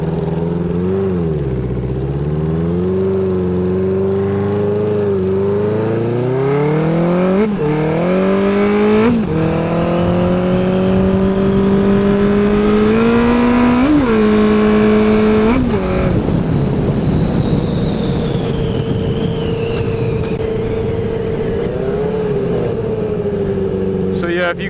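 Rebuilt 1980 Honda CB900C motorcycle on the road, engine revving up through the gears with rising and falling pitch, loud and close, steady wind noise throughout.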